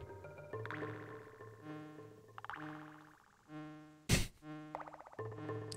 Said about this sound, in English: The wasp makes a fantastic noise